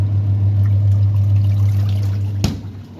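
Lukewarm water being poured for washing clothes, a steady loud pouring stream that cuts off abruptly near the end, with no talk.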